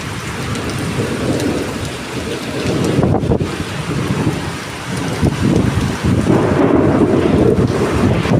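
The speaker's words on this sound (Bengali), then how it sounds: "আর তেমনি বিদ্যুৎ চমকাচ্ছে, মেঘ ডাকছে।" A fierce Kalbaishakhi thunderstorm lashes down heavy rain, a loud, constant roar with deep rumbles of thunder swelling and fading and gusts buffeting the microphone.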